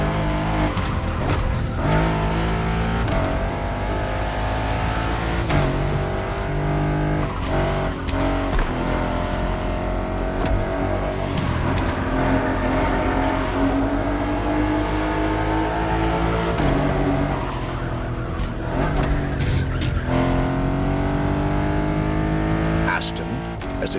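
An Aston Martin races in The Crew Motorfest, the engine droning and revving loudly with tyre squeal and gear shifts, while someone talks over it throughout.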